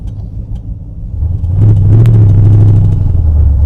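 A 1966 Chevrolet Corvette with a 427 big block and side pipes rumbles low, then swells into a loud, deep, sustained rev as the throttle opens on a farm road.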